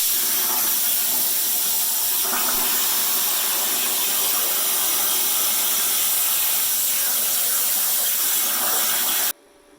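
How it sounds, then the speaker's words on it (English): An air compressor running and charging up in a workshop where a Harley Davidson sign is being plasma cut: a steady, loud broadband hiss and rumble that continues throughout, then cuts off abruptly near the end. "the air compressor's turned off, took a few minutes to charge that up"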